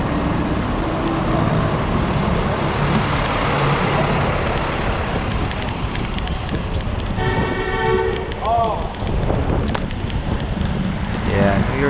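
Busy New York City street traffic heard from a bicycle: a steady roar of passing cars and wind, with scattered horn toots and a brief siren-like wail near the end.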